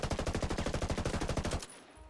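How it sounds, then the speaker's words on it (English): Full magazine of M4A1 assault rifle fire in Ghost Recon Wildlands: a loud, rapid automatic burst of about twenty-odd evenly spaced shots that stops abruptly, leaving a short fading tail and quiet. "And then another full magazine here with the M4."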